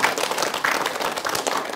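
Audience applause for a guest speaker on an Indonesian Islamic religious TV program, a dense, steady burst of many hands clapping close up, filling the whole short moment without talk.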